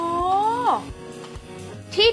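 A cat gives a rising then falling meow, and a second short meow follows near the end. The cat is close and clear, amid voices in a drama scene.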